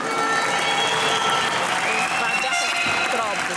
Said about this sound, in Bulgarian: Няма ли да чуем вашите аплодисменти?